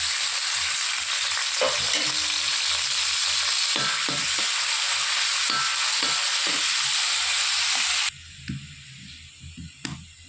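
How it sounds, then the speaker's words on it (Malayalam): Cumin seeds dropped into hot coconut oil for a red snapper curry crackle and sizzle loudly and close for about eight seconds, then the hiss falls away abruptly, leaving a few soft knocks and stirs. "ഇപ്പം വെളിച്ചെണ്ണ ചൂടായി വന്നിട്ട് നമുക്ക് ജീരകം ഇട്ട് കൊടുക്കാം."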